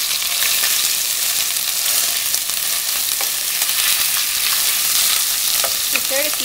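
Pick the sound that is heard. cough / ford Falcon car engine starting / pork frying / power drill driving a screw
pork frying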